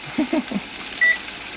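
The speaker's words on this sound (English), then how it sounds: "We're gonna go ahead and put on the timer" Short electronic beeps from a kitchen timer being set: a few quick low chirps in a row, then a single brighter, longer beep, close by in a quiet room.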